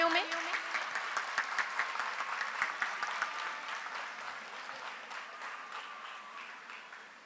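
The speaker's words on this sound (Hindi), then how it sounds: "गिफ्ट पेश करेंगे आपकी जोरदार तालियों में।" An audience at a Karachi school inauguration and blessing ceremony breaks into sustained applause as the principal presents a gift, a broad, even roar of many hands that gradually thins out toward the end.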